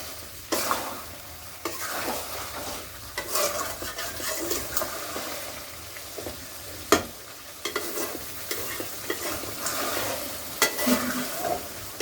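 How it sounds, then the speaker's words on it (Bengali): Beef pieces stirred and sautéed in a pan, with a continuous sizzle and uneven scraping and shuffling strokes of a spoon, rising and falling and punctuated by one sharper knock partway through. "এভাবে আর একটু ভালোভাবে নাড়া নাড়াচাড়ে নিব"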